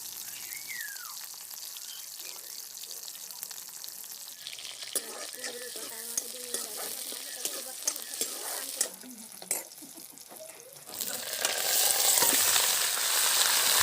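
Onions and a bay leaf sizzle and crackle in hot oil with occasional stirring clinks, then a louder hiss swells near the end.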